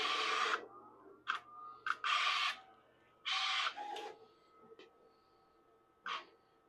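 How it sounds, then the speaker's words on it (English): A Graphtec CE7000-60 vinyl cutter shifts and feeds a roll of vinyl while locating its front edge: several short whirring motor bursts separated by pauses, with a faint low hum in between. "All right, the machine found the front edge."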